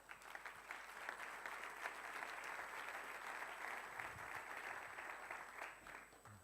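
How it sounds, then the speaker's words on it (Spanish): Sustained audience applause fills the room at a corporate business talk event, steady and dense throughout without voices standing out, fading slightly at the very end. "Sin más, solicito un aplauso, por favor, para Oriol Segarra."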